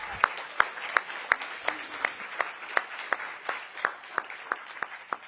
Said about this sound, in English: So let's give a round of applause to Finance and HR for standing in the gap.